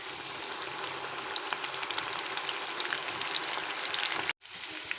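Crispy corn kernels frying in hot oil in a pan give a dense, steady sizzle with fine crackling pops. The sizzle holds close and loud, cuts out briefly near the end, then resumes.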